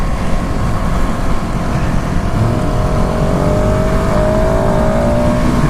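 A 2019 KTM SMC R motorcycle accelerating hard, its loud, close engine droning steadily and climbing in pitch as it pulls, with heavy wind rush throughout.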